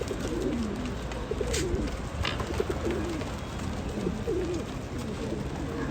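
Pigeons coo steadily in a loft, soft repeated low murmuring calls from several birds layered over a constant background hum, with no voices.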